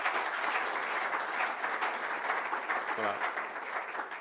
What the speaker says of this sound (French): on peut l'applaudir pour ce qu'il a apporté ce week-end.